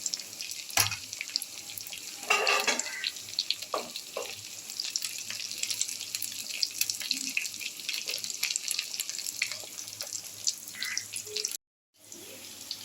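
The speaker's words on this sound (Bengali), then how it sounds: "সোয়াবিনটা ভালো লাল লাল করে ভেজে নিচ্ছি" Marinated soybean chunks frying in hot oil give a steady, close sizzle with occasional spatters and stirring clatter, running continuously before a brief drop-out near the end.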